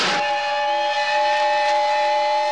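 A cartoon steam whistle sound effect blows as one loud, steady, shrill tone with an airy steam hiss, held for a couple of seconds with no voices over it.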